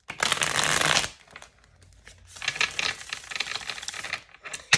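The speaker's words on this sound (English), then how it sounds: "One more shuffle, please, for the Leos." A deck of tarot cards shuffled close by in two riffling bursts, dense papery flutter with a quieter gap between them and a short flick at the end.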